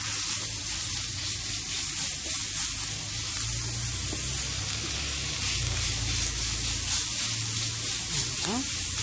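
Crumbled ground meat frying in a pan, a loud, dense continuous sizzle and crackle with faint scraping as it is broken up, close by.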